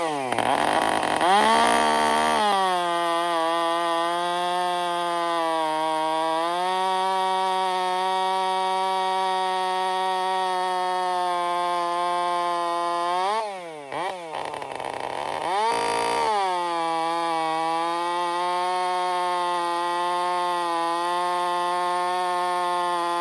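A chainsaw fitted with a full chisel chain cuts hardwood firewood, its engine a loud sustained buzzing whine that dips briefly mid-cut then climbs back to a steady high rev, close and alone.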